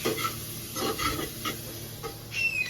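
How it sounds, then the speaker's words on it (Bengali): Mutton being stirred and sautéed in a pot for biryani, giving soft scraping stirs and a light sizzle in bursts, fairly quiet and close, with no talk over it. "মাটনের বিরিয়ানি মানে মা কষাচ্ছে"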